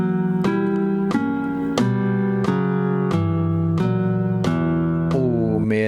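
Guitar phrase in a dark, sinister vampire-style scale, about eight sustained picked notes in a steady rhythm, each attack sharp and ringing, ending on a bent note; no voices.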